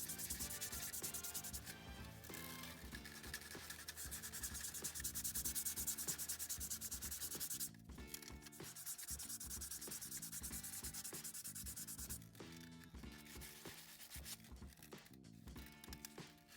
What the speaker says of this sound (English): Once you're happy with the sanding